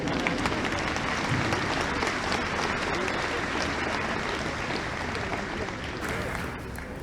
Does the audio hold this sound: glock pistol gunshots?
no